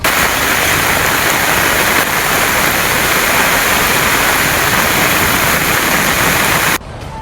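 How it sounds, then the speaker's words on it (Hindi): Heavy rain and rushing floodwater in Beed, Maharashtra make a loud, steady, hissing roar that continues without a break, then drops sharply just before the end. "महाराष्ट्र के बीड में भारी बारिश से बाढ़।"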